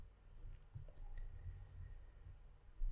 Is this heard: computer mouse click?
yes